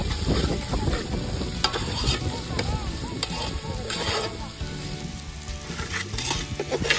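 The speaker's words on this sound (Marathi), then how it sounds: "आलं लसूण पेस्ट भाजून झाल्यानंतर त्यामध्ये घरातूनच मिक्सरमधून बारीक करून आणलेले खोबऱ्याची पिशवी पातेल्यात पालती गेली" Ground coconut hits ginger garlic paste in a pot over an outdoor fire at a family rice party in the fields, and it sizzles steadily and loudly while a spoon scrapes and stirs at intervals.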